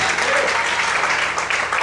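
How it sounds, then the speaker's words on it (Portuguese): A church congregation applauds God during a sermon with dense, sustained clapping from a crowd that fills the hall, loud and even from start to finish. "Você pode aplaudir esse Deus?"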